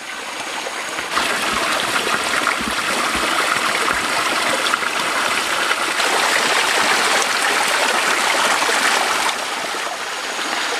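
Clean mountain stream flowing beside a small waterfall, a steady broadband rush and babble that stays close and loud throughout, with no talking.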